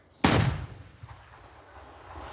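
A single loud, booming 120 mm mortar shot fires up close, followed by a long rumbling echo fading away.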